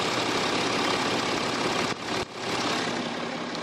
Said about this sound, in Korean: 일단 엔진 소음을 먼저 들려드리면은 정말 조용하고 정숙한